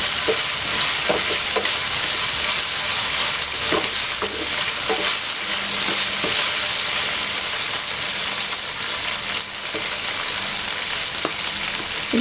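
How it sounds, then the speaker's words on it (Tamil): Broccoli and chicken sizzle steadily in oil in a pan, with repeated scraping stir strokes close by and no voices. "இது ஃப்ரை ஆகட்டும். இப்போ கலக்கி விட்டுடலாம்."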